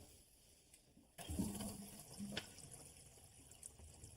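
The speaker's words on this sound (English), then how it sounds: "And it's draining really fast, which is great." A kitchen sink draining quickly after the stopper is pulled, a sudden gurgling rush of water that starts partway through and continues as a fainter churning flow.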